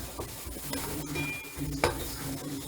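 Onion paste frying in oil in a pan while cooking ginger chicken, a close steady sizzle with stirring scrapes and a clink of a utensil against the pot.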